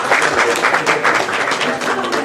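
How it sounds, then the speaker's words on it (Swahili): Dense, steady applause from a crowd at an outdoor political rally, a continuous wash of many hands clapping close by for the whole stretch with no clear pauses. "Makofi tafadhali."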